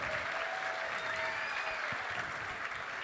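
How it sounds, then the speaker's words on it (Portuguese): An audience at a talk applauds a speaker being introduced, dense steady clapping from a crowd filling the room, with faint voices and a whistle-like tone underneath. "Uma salva de palmas para o Alexandre, gente."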